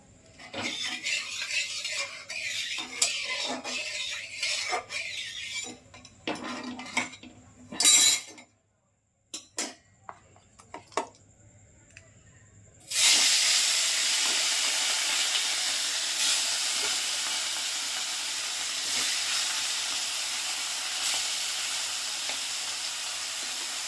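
Three pieces of fish fry in a pan, first with intermittent crackles and utensil clinks broken by brief silences, then in a loud, steady sizzle that holds for the final ten seconds.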